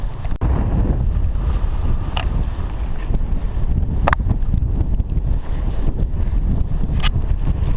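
Strong side wind buffets the microphone during winter sea fishing from the shore of the Swale at Sittingbourne, Kent, in snow: a steady, loud low roar of gusts with a few brief clicks and knocks, no talk.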